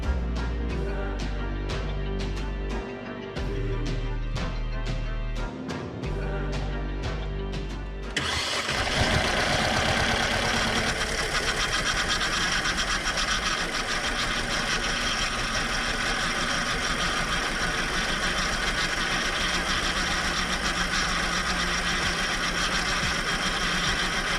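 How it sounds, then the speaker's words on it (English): A Mercedes engine cranks and fires up, then settles into a loud, steady idle with a thin, constant power steering whine running over the rumble. "You can hear that whine, that's just the power steering"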